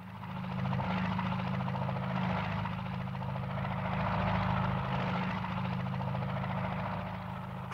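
A helicopter in a radio play flies overhead, its rotor producing a steady, throbbing low drone with a broad whooshing wash that holds at an even, fairly loud level throughout.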